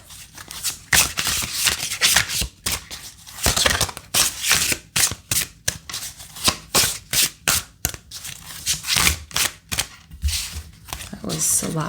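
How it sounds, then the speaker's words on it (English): Tarot cards are shuffled by hand in rapid, repeated riffling bursts, loud and close, with brief pauses between the rounds and no one talking. "so I'll keep shuffling"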